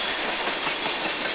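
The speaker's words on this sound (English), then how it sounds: "NS6937 is a rebuilt EMD SD60E, built in 1985." A Norfolk Southern EMD SD60E, a rebuilt 1985 locomotive, rolls past with its train, making a steady, loud wash of rail noise and wheel clatter that fills the whole short stretch with no voices.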